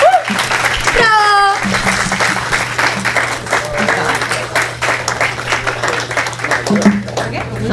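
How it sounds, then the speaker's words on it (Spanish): Audience applause at a Startup Grind Lima event, loud sustained clapping from a crowd with voices calling out over it and a brief whistle near the start. "Un fuerte aplauso, por favor, para ambos."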